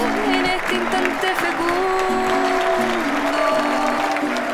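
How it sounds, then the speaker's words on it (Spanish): An audience applauds at a presentation of Chilean artist Violeta Parra, with steady dense clapping throughout, mixed with crowd noise and a voice. "¡Fuertes aplausos!"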